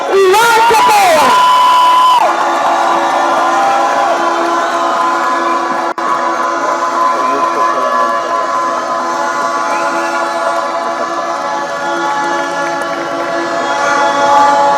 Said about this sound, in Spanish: Demos un aplauso a nuestro próximo presidente, Iván Cepeda.